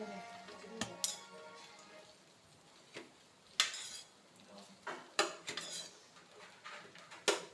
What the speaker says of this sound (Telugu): ఇదంతా బాగా కలిసిపోయేటట్టు మనం కలుపుకుందామండి రైస్